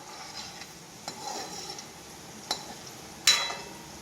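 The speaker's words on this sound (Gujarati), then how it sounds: "થોડી વારમાં આપણે જે બટાકા એડ કર્યા હતા એ હલાવતું રહેજો, નકર નીચે ચડી જશે બટેકા" Raw potatoes for sabudana khichdi are stirred in a pan, with a quiet steady sizzle broken by a few sharp scrapes and clinks of a spoon against the metal.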